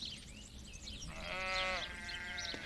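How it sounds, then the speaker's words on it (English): A sheep bleats near a farming hamlet, a single wavering, drawn-out call rising out of a faint outdoor background and then trailing off. "The sudden bleating of the sheep captured him."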